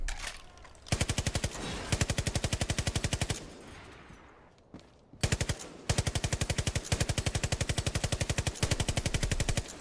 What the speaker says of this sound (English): These you can just easily shoot and destroy.